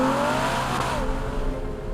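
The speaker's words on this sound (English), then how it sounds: "during launch control, the car has the ability to squat dramatically, allowing it to explode from the blocks for a superior getaway" Ferrari Purosangue accelerating hard under launch control, a loud, sustained engine roar with rising harmonic tones, close and continuous throughout with no talk.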